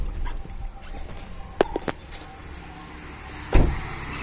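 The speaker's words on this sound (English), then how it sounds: "So the boot has been opened." Boot lid of a 2012 Maruti Suzuki Swift Dzire VDi being opened: a few sharp mechanical clicks and latch knocks, then one louder thud, heard close with no talking.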